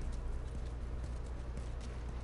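Horse hooves clip-clopping steadily in The Last of Us, a regular rhythm of close, moderately loud hoofbeats over a low rumbling background, with no voices.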